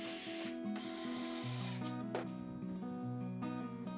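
A power screwdriver drives screws into 10mm melamine board kitchen panels, its whirring motor rising and falling in several short bursts with sharp ratcheting tones between.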